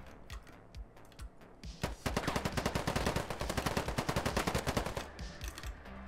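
AK-74M rifle with an ACOG sight firing in the Ironsight video game: a few single shots, then a long, loud, steady automatic burst lasting about three seconds before tapering off.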